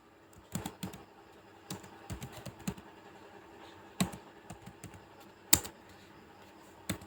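Someone types a terminal command on a computer keyboard, with scattered individual keystrokes and a sharp enter-like tap. The clicks are sparse and close against a quiet background.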